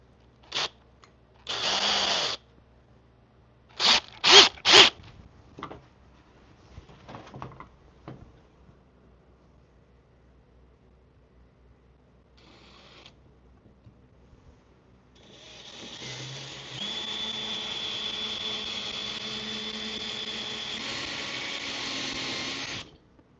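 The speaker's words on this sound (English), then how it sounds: "we're going to use a bigger drill bit first just to make a pilot hole" A few sharp clicks and taps, then a power drill whirs steadily for several seconds, drilling a pilot hole in rough-cut Amish wood for a floating desk, moderately loud and close.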